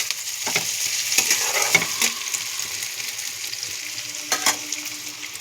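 Onions and potatoes frying in oil in a pan, a steady close sizzle with several sharp scraping stirs of a spatula, no voices.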